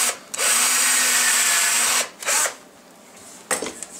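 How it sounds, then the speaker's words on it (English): A power drill whirs as it bores a starting hole, a long loud burst followed by two shorter ones with pauses between. "I can drill a little bit of hole there too"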